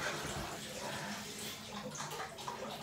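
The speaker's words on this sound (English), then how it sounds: "She is kicking up water." Water sloshes and splashes in a bathtub as a baby kicks, close and fairly quiet, with irregular bursts of splashing.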